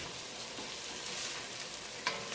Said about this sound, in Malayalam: ഈ ചൂടായ വെളിച്ചെണ്ണയിലേക്ക് സവോളയും ഇഞ്ചിയും പച്ചമുളകും കറിവേപ്പിലയും ചേർക്കുക. ഇതൊന്ന് വഴറ്റിയെടുക്കുക.